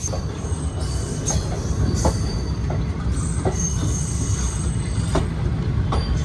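A Shri Ganganagar–Delhi Express sleeper class train runs along, with a steady loud rumble and regular rail clicks, no voices.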